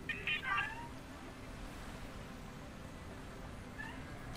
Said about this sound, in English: Ma cosa, Lily? Meow.